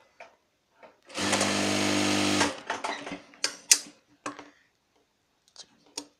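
A sewing machine runs in one steady burst of about a second while stitching a petticoat, followed by scattered clicks and light handling taps of fabric and parts.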